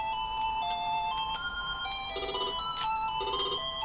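Electronic telephone ringing in the Target Renegade video game on ZX Spectrum, a steady chiptune-like ring repeating over about four seconds, loud and alone with no talk.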